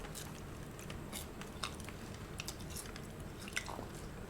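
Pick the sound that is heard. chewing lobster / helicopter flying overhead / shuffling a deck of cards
chewing lobster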